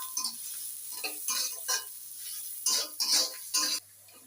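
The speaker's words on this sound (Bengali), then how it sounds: "পেঁয়াজগুলোকে হালকা একটু ভেজে দেব।" Chopped onions being lightly fried in a pan with whole garam masala, a close sizzle broken by bursts of stirring and utensil scrapes against the pan, ending in a quieter hiss.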